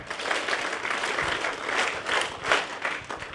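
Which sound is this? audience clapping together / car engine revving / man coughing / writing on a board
audience clapping together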